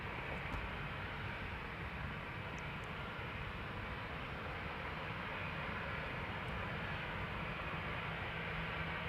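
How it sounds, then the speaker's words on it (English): Ryanair jet departing Amsterdam Schiphol for Dublin, a low, even engine rumble heard from a distance, faint and unbroken for the whole stretch. "Ryanair will be next on its way to Dublin"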